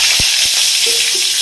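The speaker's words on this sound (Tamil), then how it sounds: "இப்போ நம்ம காஞ்ச மிளகா பொரிக்க போகிறோம்" Dried red chillies sizzle in hot oil for Edi Sambal, a loud steady frying hiss with a couple of soft stirring knocks, no voices.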